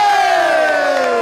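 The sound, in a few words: audience applauding and cheering for a performer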